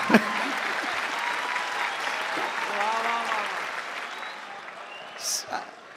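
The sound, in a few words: audience applause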